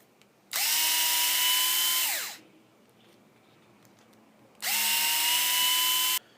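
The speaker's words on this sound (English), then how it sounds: "remove the 4 screws on the back side of the servo" A power screwdriver backs screws out of the rear case of a KO Propo PDS-2413 RC servo, giving two loud, even whirring bursts of about two seconds each, the first winding down in pitch, with quiet between them.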